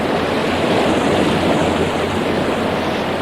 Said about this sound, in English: at the far end of the lake a mighty waterfall tumbled out of the darkness above with a loud roar